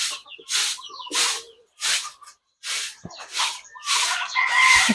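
A Rhode Island Red rooster crows repeatedly, a string of loud, close, drawn-out calls with short pauses between them, while other poultry cluck faintly in the background.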